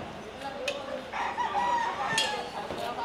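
A rooster crows amid a busy flock, with scattered clucks and calls overlapping in a noisy farmyard.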